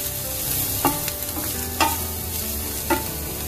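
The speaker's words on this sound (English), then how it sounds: "we're going to add 3 cloves of garlic. We'll saute again" Onion and garlic sautéing in a pan, a continuous close sizzle with three distinct stirring scrapes spaced about a second apart, no talk.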